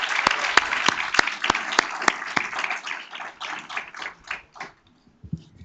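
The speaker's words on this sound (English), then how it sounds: "But let's give them one more round of applause." Audience at a school board meeting applauding a student performance, with sharp, distinct claps from a few hands up close, thinning out and fading into scattered claps before stopping.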